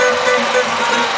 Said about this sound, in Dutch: De trekker.